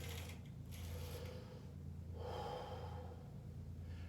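Slow, audible breathing during a gentle yoga-style warm-up, a long exhale and inhale standing out over steady low background hum, close and soft with no talking.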